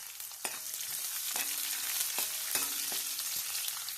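Small onion pieces frying in oil for a bottle gourd curry, a soft steady sizzle with a few sharp scrapes of a spatula against the pan, no voices.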